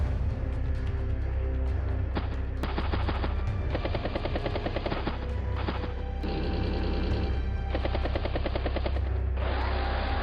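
Helicopter unit sound from the Advance Wars: Days of Ruin video game, a steady synthetic rotor drone with rapid chopping and rattling bursts that repeat in bands, over constant game music.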